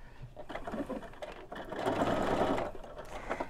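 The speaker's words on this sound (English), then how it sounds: "I like to sew in the middle, so I'm going to put a little bit longer stitch" A sewing machine runs a long stitch through a faux leather pouch, its needle chattering in quick bursts that pause and restart, close and fairly quiet, with no talk over it.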